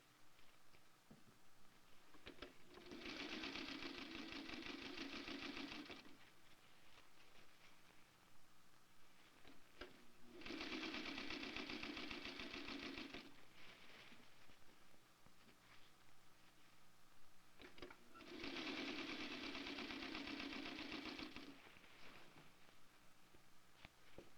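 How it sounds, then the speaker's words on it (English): A sewing machine sews a base stitch with the regulation foot riding along a metal edge, in 1959-1960 era clothing construction. Three separate runs of steady whirring, each lasting about three seconds, are split by quiet pauses. The sound is faint overall. "this first row can be put in with a base stitch, letting the regulation foot ride along the edge of the metal"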